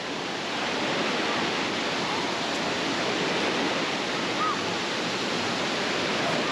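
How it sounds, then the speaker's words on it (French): Continuous broadband rush of water from a wave pool at Volcano Bay, Universal Orlando, like waves washing steadily, loud and unbroken with no distinct individual breakers or voices. "Voilà, vous voyez, des petites vagues."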